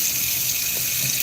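Hot water gushes steadily from a salon tap, a continuous bright hiss with no pauses, close and fairly loud, with no voices over it.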